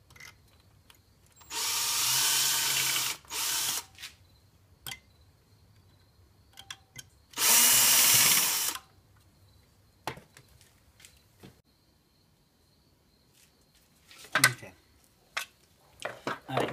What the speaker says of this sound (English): pre-drill and put the screws in.